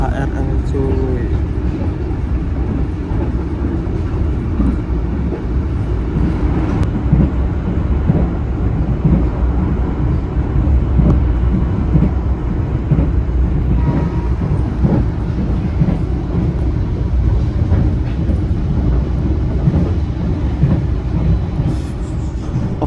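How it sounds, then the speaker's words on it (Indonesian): The Blambangan Express train departs Bekasi station with a loud, continuous low rumble and rattling wheels on rails, heard from close by, with a few faint clanks. "barusan saja kereta api Belambangan Express berangkat dari stasiun Bekasi"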